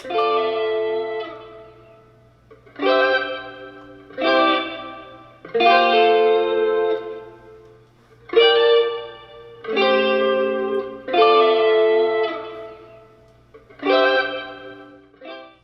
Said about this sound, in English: So the final sound for the guitar sounds like this.